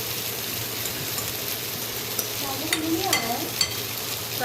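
Soya chaap stirred with masala in a frying pan gives a steady sizzle with scraping stirs and a few clinks of the spoon near the end.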